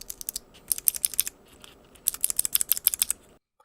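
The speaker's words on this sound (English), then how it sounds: "The Gatoron Green with its heavier spring actually actuates and it has more of a rattle sound than the blue." Crisp rapid typing on a mechanical keyboard with Gateron Green clicky switches, two close bursts of bright clicks with a rattly edge and a short pause between them.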